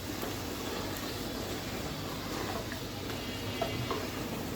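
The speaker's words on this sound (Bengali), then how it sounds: "ডাঁটা আর এই চিংড়ি মাছগুলো একটু ভেজে নিচ্ছি।" Vegetable stalks and shrimp fry in a pan with a steady, low-level sizzle and crackle that runs unbroken throughout, with no voices.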